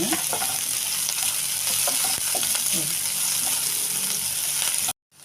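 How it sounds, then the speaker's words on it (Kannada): Green chillies and onion fry in hot oil, giving a steady, dense sizzle with faint stirring scrapes throughout, ending abruptly before the close. "ಸ್ವಲ್ಪ ಎಣ್ಣೆಯಲ್ಲಿ ಫ್ರೈ ಮಾಡ್ಕೋಬೇಕು ಜೊತೆಗೆ ಹಸಿಮೆಣಸಿನ್ಕಾಯಿ ಸ್ವಲ್ಪ ಫ್ರೈ ಆಗಲಿ"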